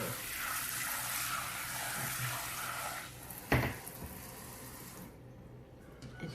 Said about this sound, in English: we wash and drain the sago